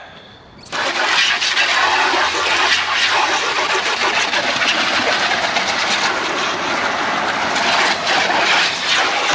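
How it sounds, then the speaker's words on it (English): A jet of water sprays and rinses car trim after a coating has been applied, starting abruptly and then hissing steadily and loudly for several seconds, close to the surface. "Let's rinse it off."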